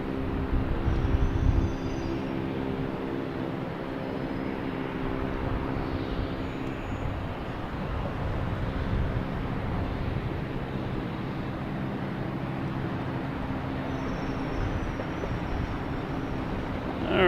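Etihad Boeing 787 arriving at Boston Logan Airport, a steady broadband jet roar holding at a constant level throughout, with a low rumble underneath and no speech.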